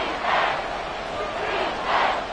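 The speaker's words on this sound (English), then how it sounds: "This crowd doing all they can." Stadium crowd roar in a football video game, a steady broadband wash swelling in two louder surges, continuous and moderately loud throughout.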